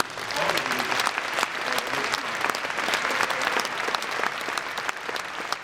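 Sustained, dense applause from a large audience at the closing ceremony of the Apimondia 2013 beekeeping congress in Kiev, steady and loud throughout with faint crowd murmur underneath.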